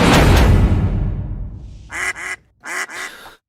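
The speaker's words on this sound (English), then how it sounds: "Quack, quack." Duck quacking sound effect: four loud, nasal quacks in two quick pairs, heard alone after a noisy burst fades out.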